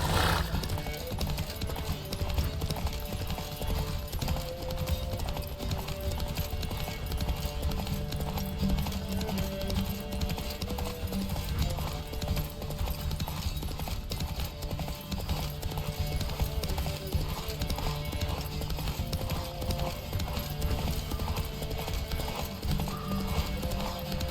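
Rapid, steady hoofbeats of a galloping horse in The Witcher 3: Wild Hunt pound throughout, with a whinny and faint shouting voices mixed under the continuous drumming.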